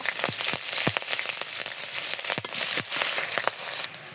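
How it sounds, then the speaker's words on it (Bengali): Chopped green chilies fry in hot oil with crushed cardamom, bay leaves and cinnamon for a chicken dish, giving a steady close sizzle broken by frequent sharp crackles and pops. "এখন দিয়ে দেবো 7-8টা কাঁচামরিচ কাটা।"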